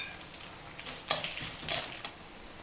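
Mustard seeds, chana dal, urad dal and red chilli sizzling in hot coconut oil, a close crackling fry with sharp popping bursts, no voices.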